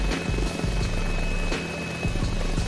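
A Mini 500 helicopter engine in Microsoft Flight Simulator drones steadily with a rapid rotor thump pulsing underneath, loud and continuous from inside the cockpit, with no talking.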